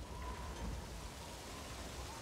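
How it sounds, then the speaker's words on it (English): Steady rain falls at Mother Base in Metal Gear Solid 5: The Phantom Pain, a soft continuous hiss of rainfall with a low rumble underneath and no voices. "now you notice it's started to rain"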